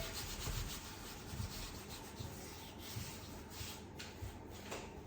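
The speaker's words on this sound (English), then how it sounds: "I'm just going to smooth this with my hands a little bit." Hands smooth sugarpaste over a polystyrene cake dummy, making soft, faint rubbing and brushing strokes in a loose repeating rhythm close by.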